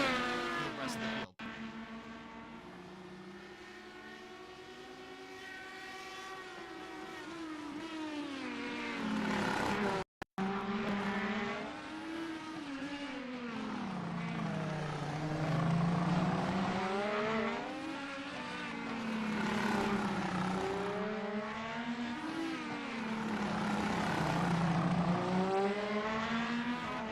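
Indy race cars at the Long Beach Grand Prix in the iRacing simulator, engines rising and falling through gear changes as they pass, heard under continuous commentary from a broadcaster.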